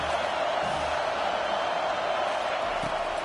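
Football stadium crowd at a UT vs Stanford game roaring steadily on a third down for the defense, a broad, sustained wash of distant cheering with no breaks.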